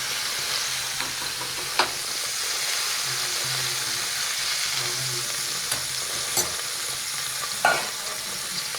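Sliced onions sizzle and fry for kothu parotta, with a steady crackling hiss broken by occasional sharp scrapes and clacks of a stirring utensil against the pan throughout.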